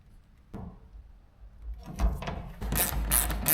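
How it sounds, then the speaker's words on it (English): Rivet nuts being set with a hand rivet nut tool into the edge of a modified van slide door for a license plate holder, heard as a sharp click followed by repeated ratcheting, crunching squeezes that grow louder toward the end. "And to connect that license plate holder, I'm installing rivet nuts."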